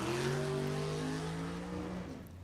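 A 1938 Chevy sedan at a drag race roars past with a loud, rising engine drone, heard from nearby, fading slightly at the end.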